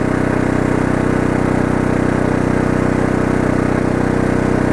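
An Oxseryn 2500 watt inverter generator engine runs loud and steady nearby, a constant buzzing hum after stepping up from eco mode, with no audible change in pitch.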